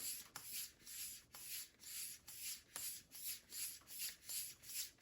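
A straight razor is stroked back and forth along a long Horween shell cordovan leather strop, giving a soft, even rhythmic swishing with a faint click at each turn, quiet and close, about ten passes.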